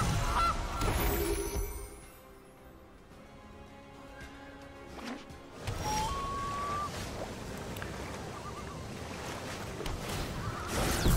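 A goose honk plays as a sound effect in the Magic Arena card game, heard as a short honking call over a faint watery ambient backdrop, with quieter stretches in between.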